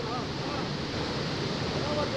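Roaring, rushing floodwater surges around workers installing a gate at the Tungabhadra dam, producing a dense, continuous, loud torrent of churning noise throughout.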